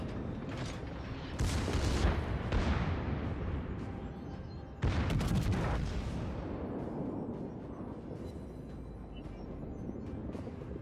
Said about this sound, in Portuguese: Vem com medo de tiro da minha secundária.